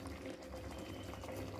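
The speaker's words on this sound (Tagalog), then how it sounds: "Kumukulo na siya." A pot of food bubbling on a stove as it comes to a boil, a steady soft simmering burble without breaks, fairly faint and close.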